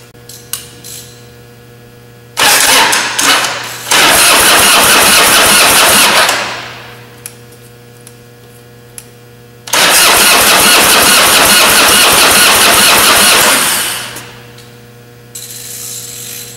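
A small engine with its exhaust removed cranks and catches twice, each time roaring loudly for a few seconds before cutting out, with a steady idle hum between bursts.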